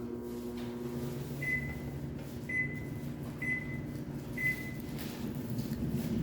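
A microwave oven running on full power at 1070 watts gives a steady hum with an underlying whir, and four short, evenly spaced tonal beeps ring out partway through.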